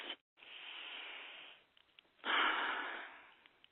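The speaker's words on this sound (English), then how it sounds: "close your eyes and take some nice deep breaths" Slow deep breaths during a guided relaxation, a long steady inhale or exhale followed by a stronger, louder breath after a pause, close and alone without speech.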